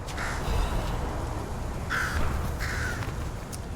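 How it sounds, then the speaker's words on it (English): Crows caw in a video game scene, three harsh, fairly loud calls spaced about a second apart over a constant low ambient rumble. "Alright, Crazy Crows."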